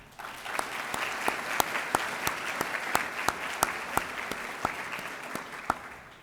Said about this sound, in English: Please join me in a round of applause for our colleagues at the Chamber for a job well done.